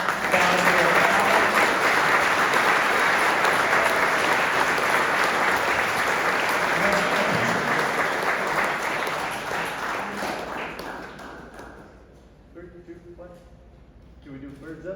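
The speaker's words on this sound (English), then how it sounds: "let's give a round of applause" An outdoor audience at the grand opening of the UTSA Park West Fieldhouse claps loudly and steadily for about eleven seconds, then the applause fades and a few people speak.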